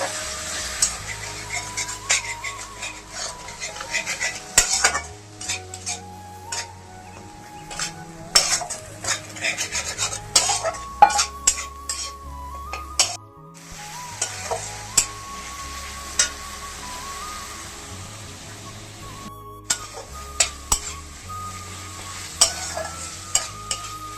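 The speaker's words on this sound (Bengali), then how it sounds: "মশলাতে সামান্য একটু জল দিয়ে দিচ্ছি ভালো করে কষিয়ে নিচ্ছি" Spices with a splash of water are stir-fried in a pan. A low simmering sizzle runs throughout under frequent metallic scrapes, clinks and knocks of a spoon against the pan, close-up, with no talking.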